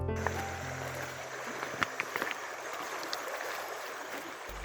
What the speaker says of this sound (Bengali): শীতল জলের মৃদু শব্দ যেখানে এলেই মনে প্রশান্তি আসে